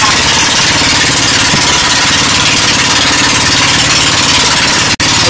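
A loud boat engine drones steadily and continuously, close by, with a constant rumbling hum and a brief click near the end.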